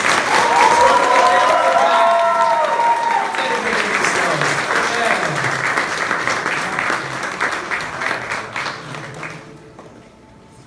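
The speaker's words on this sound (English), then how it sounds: "For our brothers and sisters here, let's give them a big round of applause." A big round of applause from a crowd at a youth church camp altar call, loud and sustained, with a voice speaking over it before the clapping fades out near the end.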